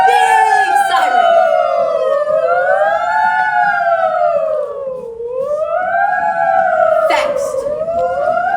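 A loud ambulance siren sound effect in a middle school theater performance wails continuously, its pitch sweeping slowly up and down in long rising and falling cycles, close and dominant.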